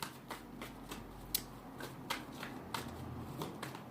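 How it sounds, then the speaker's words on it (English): A tarot deck is shuffled by hand, giving a series of soft, close card riffles and flicks at irregular intervals, quiet and alone, with no talking. "Let me pull another card to clarify this."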